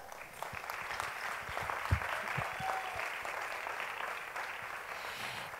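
Audience applause at a folk festival for a folklore group during the San Miguel fiestas in Valsequillo, a crowd clapping at moderate distance with a steady patter and a few louder claps.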